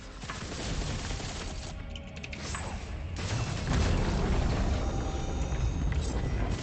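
The Mithrix boss fight in Risk of Rain 2 against Mercenary on Eclipse 4: a loud, dense barrage of shooting and crashing impacts that builds and stays heavy throughout, with no talk.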